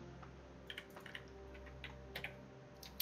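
Computer keyboard typing heard faintly at a distance over a steady low hum, with a few scattered key clicks and short bursts rather than continuous rhythm.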